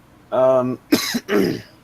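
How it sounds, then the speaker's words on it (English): Close, loud coughing and throat clearing in three quick bursts from one person. "coughing."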